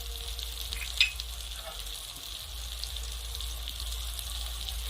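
Spice paste with chopped coriander and ground green chilli frying in oil for a desi chicken curry, a soft, steady sizzle in the pan with a single brief clink of a utensil near the start.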